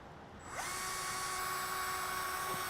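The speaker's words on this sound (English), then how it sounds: "I'm going to drill through real quick." Close-up whine of a power drill cutting through a Baystar boat helm panel, starting abruptly and holding a steady high pitch for about two seconds before the motor winds down.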